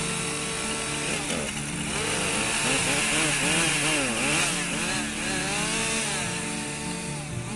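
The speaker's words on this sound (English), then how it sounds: "Just a couple of guys with chainsaws typically." Chainsaws run continuously during forest thinning on a property, the engines rising and falling in pitch as they cut through trees, loud and close with no talking.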